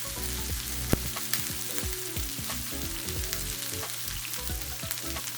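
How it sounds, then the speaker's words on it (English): Pork chops browning in a hot frying pan give off a steady, close sizzle and crackle, with a few sharp pops and light scrapes scattered through; no one speaks. "We're just browning them in the pan first"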